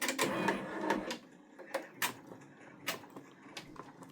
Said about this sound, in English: Everything looks good, so now I'll go ahead and start the stitching.